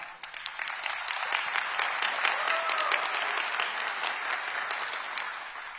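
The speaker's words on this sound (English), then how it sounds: "So let's give them a round of applause." Large keynote audience at the Snowflake Summit 2025 giving a round of applause, a broad sustained clatter of many hands that swells slightly and holds steady, with no talking over it.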